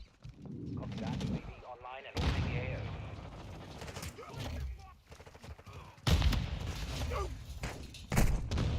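Gun fire in Call of Duty Modern Warfare II on the Shipment map, loud bursts of rapid shots and thuds in several clusters, with someone talking in between.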